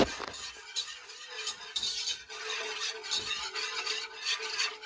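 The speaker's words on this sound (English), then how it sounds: "And we're going to whisk this." A whisk stirs Alfredo sauce with black pepper in a pan, making a continuous close scraping and rubbing sound with a soft, uneven rhythm.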